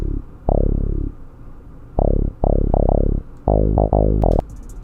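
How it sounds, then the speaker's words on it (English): A deep synth bass sample from Purity plays in an FL Studio beat: a run of heavy, booming notes, each with a quick downward pitch slide, some held longer and some clipped short. "Next thing is this bass from Purity, and it's pretty famous"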